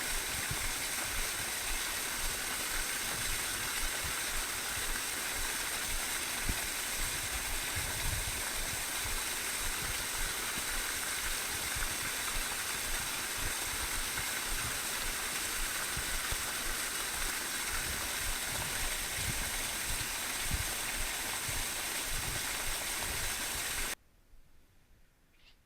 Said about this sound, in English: the water falling down and splashing on that rock there in the creek is pretty cold